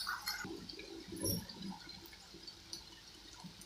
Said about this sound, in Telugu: ఇప్పుడు కొంచెం ఒక హాఫ్ గ్లాస్ వాటర్ యాడ్ చేసుకున్నాం